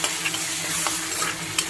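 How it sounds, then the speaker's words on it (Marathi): Ground masala paste for egg masala gravy fries in hot oil, a loud close sizzle with scraping stirs of a spoon running steadily throughout. "आता तो पण मसाला टाकलेला आहे तेलामध्ये"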